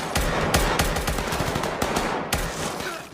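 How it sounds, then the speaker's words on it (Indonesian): Gunfire in a scene from the drama series Squid Game season 2, rapid bursts of automatic shots with sharp individual cracks punctuating the sustained rattle, loud and close with no talking. "mereka langsung disambut dengan tembakan yang berasal dari minion yang berusaha menghentikan mereka"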